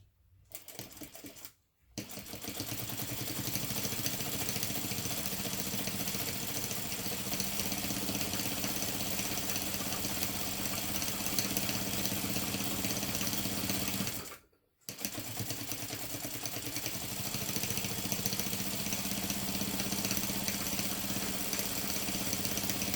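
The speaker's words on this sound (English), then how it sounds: "now I'm going to top stitch down the length of the other side" Sewing machine top stitching along the side of a fabric crossover clutch bag, a steady close mechanical whirr running for long stretches with two short pauses between runs.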